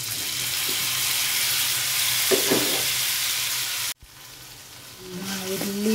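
Liver and tomatoes fry in a pan, a steady close sizzle that breaks off sharply for a moment and then returns, with faint stirring scrapes.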